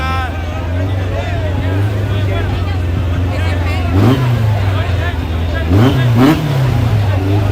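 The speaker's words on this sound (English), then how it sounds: "It's Volkswagen on left lane. It's a Honda." Cars, a Volkswagen and a Honda among them, race past at a street track, engines droning loudly with two rising revving sweeps as they pass close, while a crowd chatters and shouts throughout.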